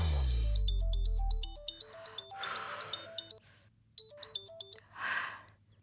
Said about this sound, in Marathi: अर्जुनचा फोन आहे.